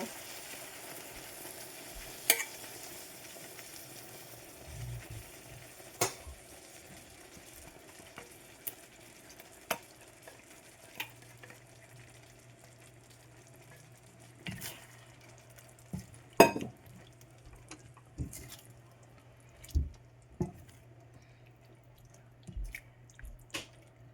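Sweet and sour sauce for prawns bubbles and sizzles softly in a pan, a low steady hiss broken by scattered clicks and spoon taps from stirring, close but quiet, with no speech.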